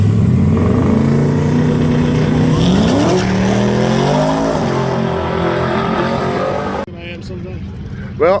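A drag car launching at Rockingham with wheel hop, its engine roaring loud and rising in pitch as it pulls away, then cutting off abruptly near the end.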